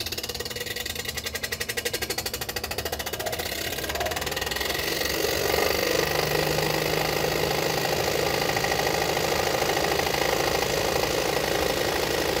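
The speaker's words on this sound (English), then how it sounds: "It's just the plastic rubbing on the edge of the blower." A Glen Marten 1600 four-tube unit runs with its blower turning, giving a steady close mechanical hum; a rapid rhythmic rattle in the first few seconds fits plastic rubbing against the edge of the blower.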